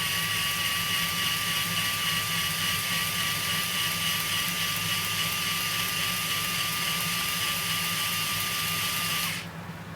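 RYOBI 4V cordless USB-charge screwdriver motor spinning forward near 213 RPM, a close, constant high-pitched whine over a low mechanical hum that stops abruptly near the end.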